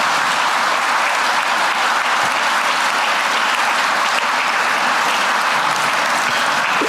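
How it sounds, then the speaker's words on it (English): Dense, sustained applause from a large audience at a gala, steady and loud throughout without pauses or voices standing out. "And so please, a round of applause for Edie Kalin."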